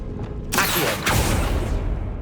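Accio summoning spell cast in the game Hogwarts Legacy: two sharp whooshing bursts, one after the other, swelling over a steady low ambient bed.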